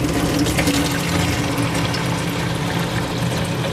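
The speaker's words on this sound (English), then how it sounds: "Filled up this 1 gallon jug, this 3 liter jug, and then part of this other 3 liter jug for 30 cents." A coin-operated water vending machine fills a plastic jug with a steady, continuous rush of pouring water that stays loud and even, mixed with a low pump hum, and no one speaks.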